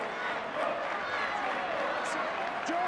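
Crowd at a rugby league match between Hull and Warrington on a cold night gives a diffuse, moderate round of applause and murmuring, with commentary talking over it.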